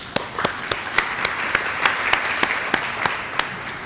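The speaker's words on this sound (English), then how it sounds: "Let's thank them with an applause" Guests at a luncheon applaud the event's sponsors, a steady bed of crowd clapping punctuated by one nearby person's sharp, evenly spaced claps about three per second.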